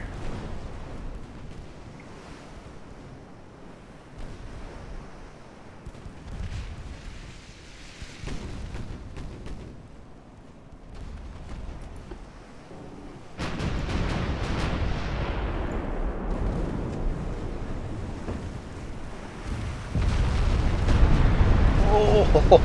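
Naval guns fire armor-piercing shells in the Ultimate Admiral Dreadnoughts battleship game, with heavy rumbling booms that swell louder in the later part, while someone talks over them.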